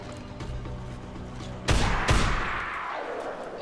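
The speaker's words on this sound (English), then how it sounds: "Oh, he is shooting zombies." Gunfire as a player shoots at zombies in the video game Dead Island: two sharp, loud shots close together stand out over a steady game background, then ring off into a fading tail.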